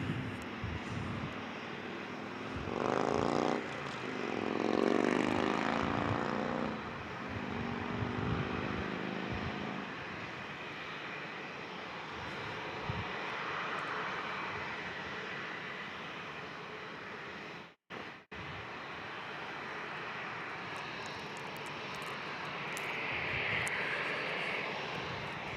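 A United Airlines jet at San Diego International Airport roars loudly and steadily, its engine noise swelling early and holding as a broad sustained rumble, with a brief dropout partway through and no talking.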